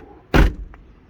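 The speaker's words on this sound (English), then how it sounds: "Door shut sounds very much like the R8 actually" A Rover 800 car door, the 827 SLi model with quite light doors, shuts once with a single solid, close thud that dies away quickly, followed by a faint click in a quiet setting.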